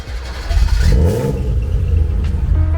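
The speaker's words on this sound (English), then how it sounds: "The exhaust is musical." A BMW E30's exhaust revs close by, a deep, loud engine note that climbs and swells, then settles into a steady rumble.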